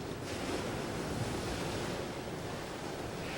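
Pacific Ocean surf breaks on a coral reef shore at Kenting National Park in Taiwan, a steady, broad wash of waves mixed with wind buffeting the microphone, continuous with no talk.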